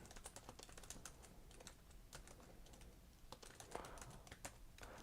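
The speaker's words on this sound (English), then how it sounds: "So I'm just typing in celebrity side view profile." Rapid, irregular clicking of fingers typing on a computer keyboard during a live search for images, steady close clicks over quiet room noise with no talk.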